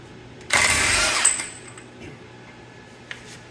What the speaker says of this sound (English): I'm going to use my rigid half-inch drive impact, which is going to just laugh at this thing and pull it right off